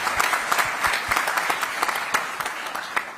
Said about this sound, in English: we wish everyone to clap for the CEO and the committee that organized for this summit.